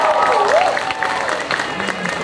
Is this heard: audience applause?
yes